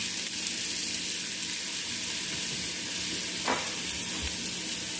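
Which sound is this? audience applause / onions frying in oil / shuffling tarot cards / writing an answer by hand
onions frying in oil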